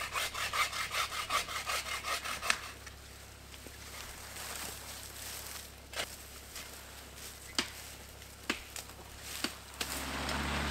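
A hand saw cuts down trees on a forest fire break with a quick run of rhythmic strokes. Scattered knocks and rustles follow, close and moderately loud.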